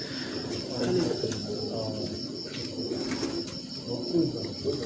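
Champion-bred pigeons coo continuously at close range, a low rolling murmur rising and falling across several calls, with faint background noise.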